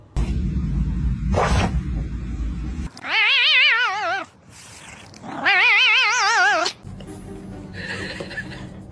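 A cat lets out two long, loud wavering caterwauls with pauses between, after some brief background noise at the start.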